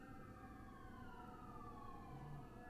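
An ambulance siren passing outside, with a faint wailing tone that slides downward under a steady low rumble of traffic, heard at a distance through walls.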